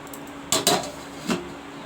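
A lid goes onto a pot of chicken curry, giving two sharp metallic clanks close together and then a softer clink a moment later, near and alone.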